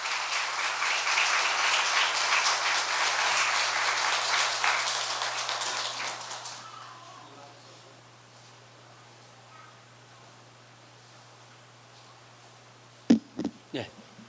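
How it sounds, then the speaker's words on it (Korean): A church congregation applauds to welcome a visiting pastor, dense sustained clapping filling the room for about six seconds before fading to near silence, followed by a couple of brief bumps near the end. "여러분들 우리 따뜻하게 박수로"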